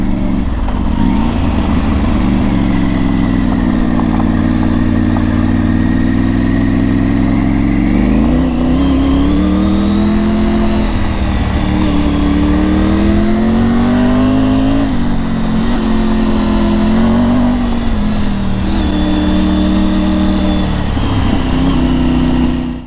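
A Triumph Tiger 900 motorcycle engine roars loudly up close while riding, revving up and down as it accelerates, with constant rushing wind noise.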